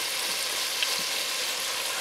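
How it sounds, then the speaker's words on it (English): Bacon sizzles in a pan over medium-low heat, a constant fine crackling hiss that stays steady and close, with no voices. "Listen to that sizzle."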